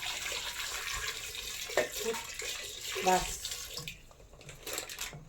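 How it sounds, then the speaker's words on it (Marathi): Water runs from a tap into a pressure cooker holding potatoes, a continuous splashing pour that fades near the end. A brief voice is heard over it. "आता पाणी घेऊया त्यात."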